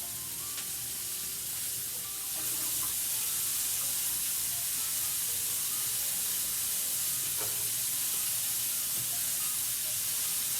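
Steady broadband sizzling of garlic frying in a hot pan beside seared chicken, continuous and fairly close, with a few faint clinks and no talking.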